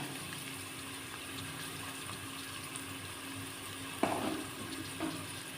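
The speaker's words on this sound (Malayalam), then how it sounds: "ഇനിയത്ത് സവാളയും ഉപ്പും ചേർത്ത് വഴറ്റുക." Onions and salt sauté in a pan with a soft, steady hiss throughout, broken near the end by a single sharp clink of a utensil and a fainter knock after it.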